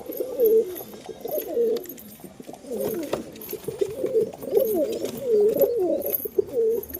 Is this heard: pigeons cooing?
yes